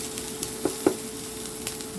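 Chopped onion sautéing in oil in a pan, a steady low sizzle with a few soft stirring taps, close and alone without talk.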